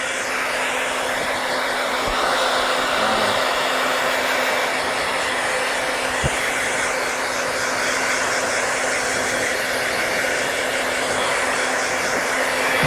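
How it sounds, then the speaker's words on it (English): A hair dryer runs steadily and loudly throughout, blow-drying hair in a studio salon with a constant close whoosh and no pauses. "during your blow dry, really just get your fingers are such a great tool"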